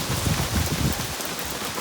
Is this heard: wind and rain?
yes